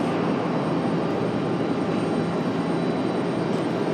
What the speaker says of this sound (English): The American 777 off to London